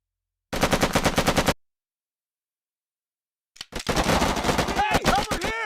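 Heavy automatic gunfire from the video game Made Man comes in rapid bursts, then a gap of silence before another dense volley mixed with explosions and shouted voices.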